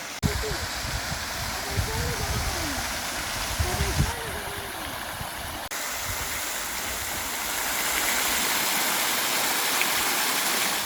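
A steady roar of falling water fills the scene, broad and constant, with a voice and an idling engine faintly underneath at first.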